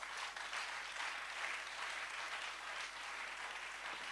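Congregation applauding in a church, steady sustained clapping from many hands, even and unbroken from start to finish at moderate loudness.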